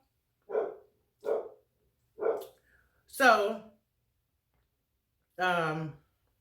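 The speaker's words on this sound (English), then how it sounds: "if y'all hear my dog" A dog barks in short, separate bursts, three quick woofs followed by a longer harmonic bark and another after a pause, moderately loud and alone with no talk.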